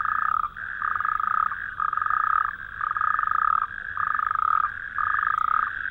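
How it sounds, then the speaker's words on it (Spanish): Toads croaking at a pond, a loud, close chorus of rapid trilling calls repeating in regular bursts with short pauses between, no voices heard. "Los anfibios que pueblan este medio marcan sus territorios sin parar de cantar."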